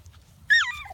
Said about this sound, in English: Silly puppies.